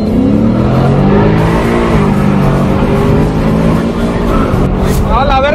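A nitrous-equipped Ford Mustang roars hard through an eighth-mile pro tuner drag race, its loud engine climbing steadily through the gears while excited commentary runs over it.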